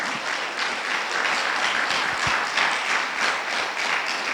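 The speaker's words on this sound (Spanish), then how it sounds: "Dar un aplauso al Espíritu Santo" Sustained applause from a church congregation fills the space, steady and moderately loud with no gaps, a dense wash of many hands clapping together.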